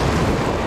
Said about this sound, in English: Got raining, windy